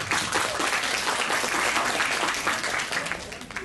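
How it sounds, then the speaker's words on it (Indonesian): An audience at an Indonesian talk event claps together in a dense, steady round of applause that holds throughout and tapers slightly at the end. "tepuk tangan dulu buat semuanya"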